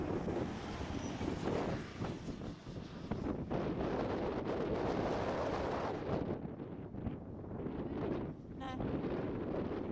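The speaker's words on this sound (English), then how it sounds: "One thing we did notice was just how windy it was the day there." Gale-force wind in the desert near Big Red sand dune buffets the microphone, a loud continuous roaring rumble with gusty surges that ease slightly toward the end.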